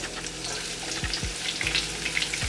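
Sliced vegetables hit hot oil with frying garlic in a pan, giving a steady close sizzle and crackle with a few soft clatters of stirring, no talking.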